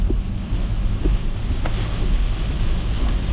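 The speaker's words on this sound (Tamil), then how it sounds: "என்ன மழை அடிக்குதுன்னு பார்த்தீங்களா? செம்ம மழை" Heavy monsoon rain pours around a car driving through forest roads near Munnar, a dense steady roar with wind-like rumble and a few faint patters throughout, no voices.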